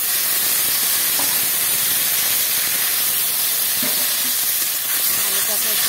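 Water hits potatoes frying in a pan, releasing a loud broad hiss of steam and sizzle that holds steady up close, with faint scraping from stirring.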